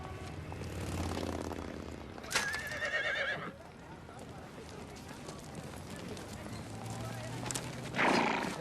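A horse whinnies loudly twice, shrill drawn-out neighs separated by several seconds, close by, over a low background rumble.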